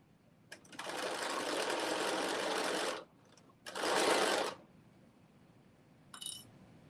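A sewing machine bastes a seam in two runs, a long whirring stretch then a shorter one, close and steady, with a brief clink afterward.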